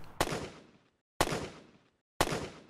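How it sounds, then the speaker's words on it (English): Medium-range recorded gunshot sound asset in Unreal Engine 5, fired three times at even one-second intervals, each a sharp crack trailing into a short decaying tail, with silence between shots. "the actual asset being played has now switched to a medium ranged recording"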